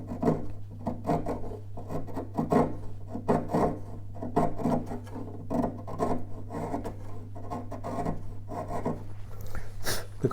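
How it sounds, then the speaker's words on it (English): A chisel scrapes and pares a wood surface to clean it for a tapered end inlay, producing steady close rasping strokes in an uneven rhythm over a low constant hum. "I'm going to clean this a little bit with the chisel"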